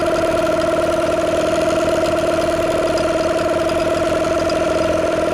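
A boat outboard motor idles smoothly right after its first pull-start, a steady, even mid-pitched hum with a fast regular pulse, close and loud, with no voices.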